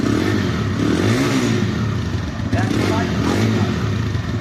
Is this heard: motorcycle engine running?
yes